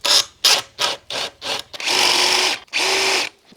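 A small hand tool bores a hole in a worktop frame, making a string of short, close grinding bursts that run into two longer, steady whirring passes.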